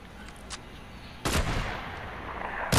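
Video-game gunfire cracks out in a few sharp shots, a single loud burst in the middle and another at the end, over faint background noise with no talk.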